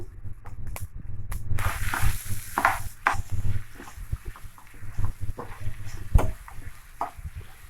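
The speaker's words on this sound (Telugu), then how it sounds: "సో అది యాడ్ చేసి మిక్స్ చేసుకోవాలన్నమాట." Mashed potato stirred into sizzling tempering in a hot pan, with close, uneven scraping and stirring strokes over a soft frying hiss and a few sharp knocks of the spoon.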